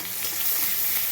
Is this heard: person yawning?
no